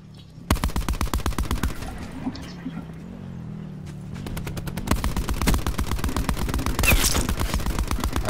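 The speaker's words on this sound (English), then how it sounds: "There's somebody shooting at me." Rapid bursts of automatic gunfire in Call of Duty Black Ops 4 Blackout, loud and close, with rattling volleys starting and stopping across the clip, a lull of background hum, then renewed heavy shooting.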